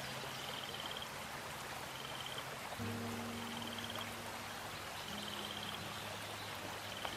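Minecraft frog croaks in short, evenly spaced bursts over a steady rain-like ambience of water and rustling, with a low tonal drone changing pitch partway through.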